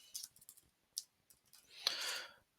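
Computer mouse clicks on the Create button in georeferencing software, a few sharp faint clicks followed by a brief soft swishing rustle, close and quiet with no talking.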